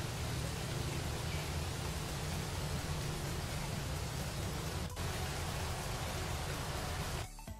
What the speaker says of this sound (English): generates a final rain clip for us